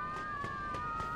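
A police car siren wails nearby in the Mafia 2 video game, a steady high-pitched tone with a pulsing, rhythmic warble filling the short stretch, with no talking.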